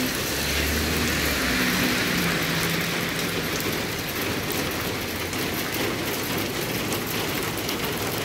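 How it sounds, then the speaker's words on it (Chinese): Heavy rain pours steadily at Ruifang, Taiwan, a dense, constant hiss of rainfall on surfaces, with a faint low rumble at the start. "我拍的是瑞芳那个下大雨啊"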